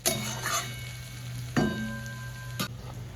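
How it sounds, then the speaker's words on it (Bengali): Potatoes for yakhni pulao frying in oil, a continuous close sizzle with a few sharp clinks of a utensil against the pan spaced about a second apart. "আমি এখানে আলুটা দিয়ে একটু ভাজা ভাজা করে নেব।"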